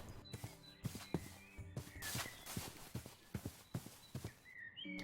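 Steady clip-clop of horse hooves walking in the video game Terrafirmacraft Reloaded, a regular rhythm of muffled thuds with faint chimes over a low background, no voices.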